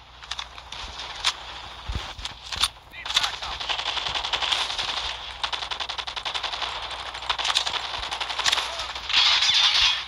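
Rapid rifle gunfire in the mobile shooter Call of Duty Mobile, a gold bolt-action rifle in hand; dense bursts and single cracks run almost continuously with dull thumps mixed in, and a faint voice surfaces once or twice.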